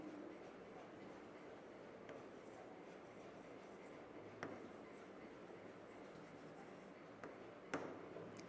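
A marker scratches faintly across a board as a name is written, soft continuous strokes broken by a few small taps, very quiet and close, with no talking.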